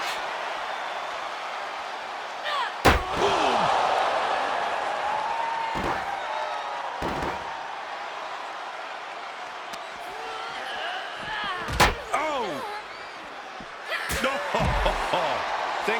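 Wrestling Samoan drop slam in the WWE 2K23 video game: several sharp, loud body-slam impacts thud against the mat over a crowd roar, with commentary talk running underneath.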